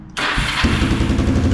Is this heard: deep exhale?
no